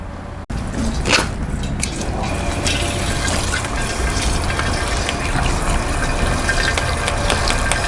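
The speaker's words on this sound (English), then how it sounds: "this is oxygenating the water like crazy, which is good for the yeast" Water pumped and oxygenated for home brewing gushes in a loud, steady rush that runs the whole time, with a brief dropout near the start.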